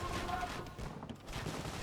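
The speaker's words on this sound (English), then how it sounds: "now the cannons are taking out the castles" Cannons and organ guns fire on castles in a strategy game, a rolling volley of rapid bursts that briefly thins out before resuming, with someone talking over it.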